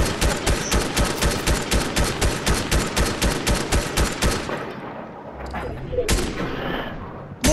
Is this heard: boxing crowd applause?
no